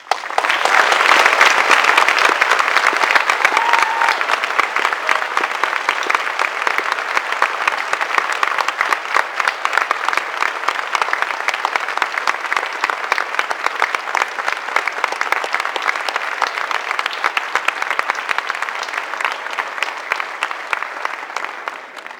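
An audience at an Apollo 8 reunion lecture applauds to honor the mission's alumni: dense, sustained clapping from a large crowd for over twenty seconds, steady throughout and easing slightly at the end.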